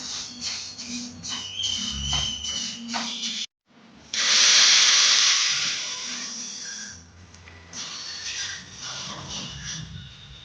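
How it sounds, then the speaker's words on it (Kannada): Sesame seeds frying in a pan for a Coorg-style sesame and fenugreek preparation, a close hissing sizzle with stirring scrapes, a brief silent break, then a loud burst of hiss that gradually settles back to steady crackling. "ಎಳ್ಳನ್ನು ಹಾಕೊಂಡು ಫ್ರೈ ಮಾಡ್ಕೊಳ್ತಾ ಇದ್ದೀನಿ"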